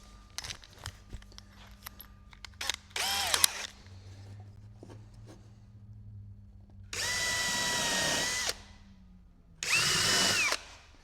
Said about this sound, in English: Let's find the drill.